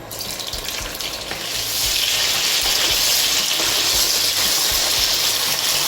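Cherry tomatoes hit hot oil with garlic in a pan, giving a loud, steady sizzle that swells after a moment and then crackles on continuously, close up with no voices.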